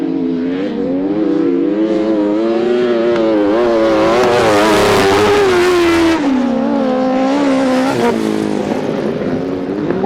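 Sidecar outfits race at a grasstrack meeting, their engines roaring loud and continuous with rising and falling revs as the pack charges through a turn, several machines blending into one sustained snarl.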